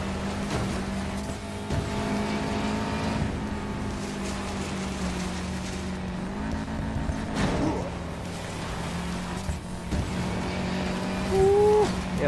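Race car engines in the video game Need for Speed Payback roar steadily throughout during off-road racing, with shifting pitch as vehicles accelerate and pass, plus a brief rising whine near the end.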